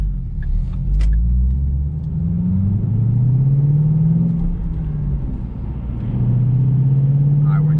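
A 2014 Shelby GT500 accelerates hard through its gears, its engine a loud, deep roar that sweeps upward in pitch several times as it winds out and shifts, with a steady heavy rumble throughout.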